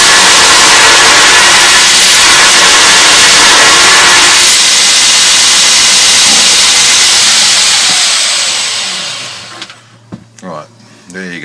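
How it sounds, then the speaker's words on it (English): A belt grinder works the bevel of a handmade knife blade, a loud, steady abrasive hiss and roar for several seconds that dies away into quiet with a few small knocks at the end. "See what, if I grind it down a bit, you'll be able to see it better."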